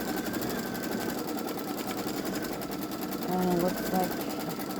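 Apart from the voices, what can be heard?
Baby Lock Solaris Vision embroidery machine triple-stitch outlining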